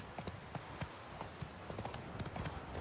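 Horse hooves clip-clop at a walking pace on a hard surface, quiet and steady, repeated irregular hoofbeats, in the video game The Witcher 3.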